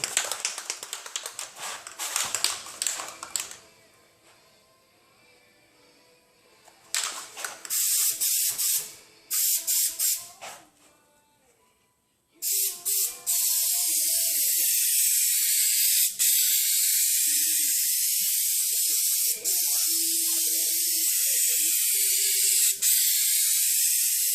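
Aerosol spray can applying a second coat of paint during refinish work on a 2005 Honda S2000 after autocross damage, with a long continuous loud hiss of spraying following earlier short bursts and rattles, no talking.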